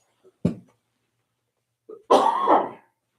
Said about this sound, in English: Coughing while having coffee.